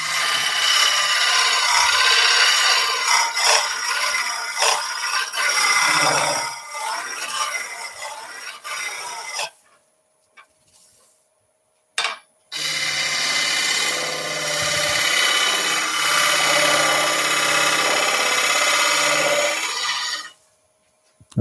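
A woodturning tool takes a rough cut on a lathe while hollowing, a loud continuous rasping shear of shavings. It stops for a short pause of near silence, then the rasping resumes steadily to the end.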